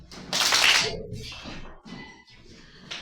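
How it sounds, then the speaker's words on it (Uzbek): A single burst of hand clapping raised above the head during a classroom exercise break, loud and close, followed by quieter rustling and faint voices in the room. "Tepaga qarsak."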